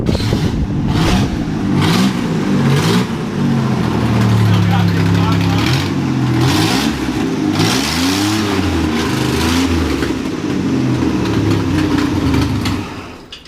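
Carbureted engine of a 1985 GMC S15 High Sierra pickup revving up and down repeatedly from idle, loud and close, with rising and falling pitch sweeps over a constant rumble.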